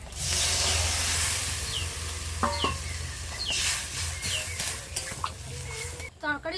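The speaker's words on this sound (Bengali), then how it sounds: "ঝোল ফুটে উঠেছে" Fish curry broth with spices, fried potatoes and water bubbles in a pot, a continuous close hiss and simmer broken by a few small clinks and pops, with no talking.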